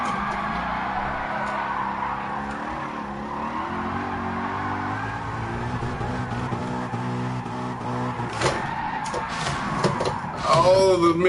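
Race car in Gran Turismo Sport with a continuous engine drone that shifts pitch through uneven, missed gear changes, with tire squeal and sharper bursts toward the end.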